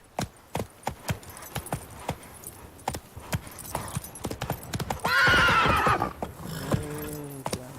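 Roach, a horse in the video game The Witcher 3, gallops with sharp rhythmic hoof clops, then gives a loud, close whinny, with the hooves continuing beneath it.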